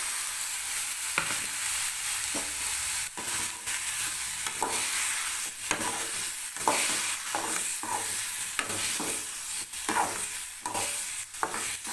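Tomatoes and mint sauté in a pan for chutney, a continuous close sizzle broken by regular scraping stirs of a spoon, with no voices.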